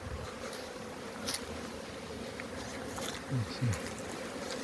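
Honeybees buzz steadily at an outdoor apiary on a mild winter day, a dense continuous drone with a couple of louder passes of bees flying close by.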